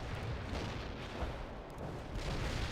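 Mortar artillery fire in the video game World in Conflict, heard as a dense, continuous rumble of booming blasts and distant explosions with no clear pauses, fairly loud throughout.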